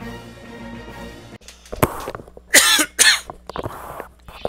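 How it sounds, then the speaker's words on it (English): Several sharp coughs burst out in quick succession, a little distant, over a low steady background hum. "that's someone coughing in the background"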